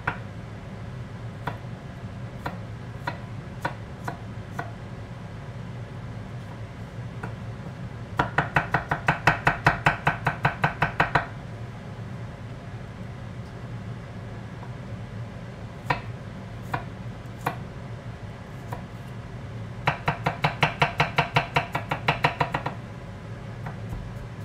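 Garlic being chopped with a knife on a cutting board, scattered single taps and then two fast rhythmic bursts of rapid chopping, close and crisp.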